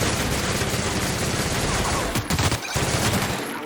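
Sustained gunfire in The Outer Worlds, a dense, loud barrage of rapid shots with a brief gap near the end before firing resumes.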